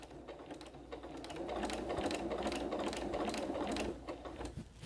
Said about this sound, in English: keeping this fabric lined up along this foot to again try to keep that stitching.